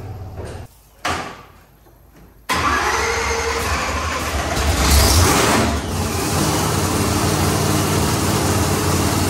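A blower-charged ProMod drag car engine cranks in short bursts, then catches and roars into a loud, sustained idle close by, with no voices.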